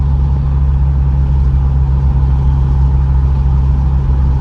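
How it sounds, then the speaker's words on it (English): Steady, loud engine drone of a car with an axle-back exhaust and muffler delete cruising along, a constant low rumble with no revving changes and no talking. "This is a POV drive with the muffler delete."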